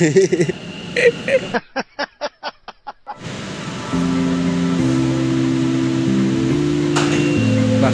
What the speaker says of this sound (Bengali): দুটো দরজা একসাথে খুললো মেট্রোর দরজা আর স্লাইডিং ডোর একসঙ্গে খুলে গেল